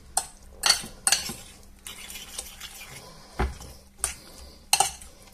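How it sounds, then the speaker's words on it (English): Cabbage and potato omelette mixture with paprika being stirred in a bowl, a series of close, irregular scraping and clinking strokes of utensil against the dish, with quieter pauses between them. "Give it a good mix in."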